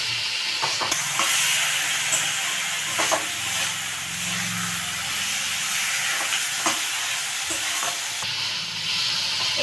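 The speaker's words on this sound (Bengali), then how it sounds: "এবার আমি একসঙ্গে সব কিছু দিয়ে ভালোভাবে মশলাটাকে কষে নেব" A spice paste with chopped tomato and mustard is stir-fried in a pan for a bhola fish and potato curry, giving a loud continuous hiss and sizzle broken by scraping stirs.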